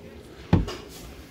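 A storage drawer in the cabin of a 2015 Caravelle 249 Razor boat gives a single short knock as it slides shut, close and clear against quiet background.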